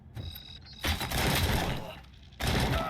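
Bursts of gunfire from the video game RoboCop: Rogue City crackle in short volleys, one around the middle lasting over a second and another at the end, loud and close.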